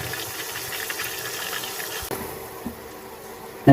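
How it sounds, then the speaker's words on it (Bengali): Onion and garlic fry with panch phoron and a little salt in a pan, a steady close sizzle and hiss that shifts slightly partway through, ending in a brief sharp clatter. "এখন আমি এগুলো ভালো করে ভেজে নেব লাল লাল করে"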